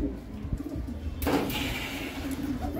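Pakistani white bar pigeons coo in a low, soft, repeated murmur from nearby, with a steady background and a broadband rustle or flutter toward the end.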